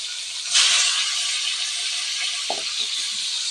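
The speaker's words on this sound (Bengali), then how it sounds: "এখানে হচ্ছে তেলাপিয়া মাছ আমার আম্মু দিয়ে দিতেছে কড়াইতে।" Tilapia fish laid into hot oil in a kadai gives a broad steady sizzle that swells suddenly, then hisses on evenly, with a couple of faint clinks of utensils.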